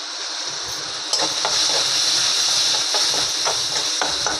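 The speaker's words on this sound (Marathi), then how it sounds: "हे मसाला भाजून घेते मी।" Red chilli masala powder with turmeric is dry-roasted in a pan for a village tuber curry, a continuous bright sizzle and hiss close by, with scraping stirs breaking through, louder after the first second.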